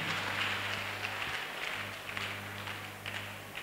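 A church congregation clapping during a lively worship service in Bolga, with a dense, steady wash of hand claps over a low sustained musical hum.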